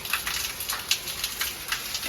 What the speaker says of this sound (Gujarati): છે જોરદાર વરસાદ છે